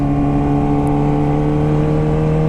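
A 2008 Kawasaki ZX14 motorcycle engine pulling hard through a corner in low gear, a loud, close, steady humming drone with no talk.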